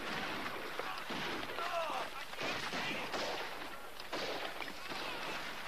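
Gunfire crackles in the distance through a film battle scene. Scattered muffled shots and bursts sit under a dense background wash, with voices faintly mixed in.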